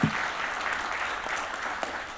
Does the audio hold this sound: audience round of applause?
yes